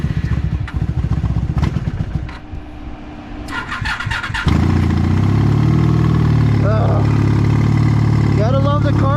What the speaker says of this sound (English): The motor on this, it doesn't want to stay alive.